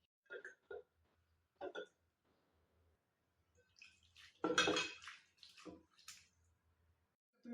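Bitter gourd is washed in a bowl of water, with a few sparse clinks of dishware, then a louder stretch of sloshing and splashing, close and otherwise quiet.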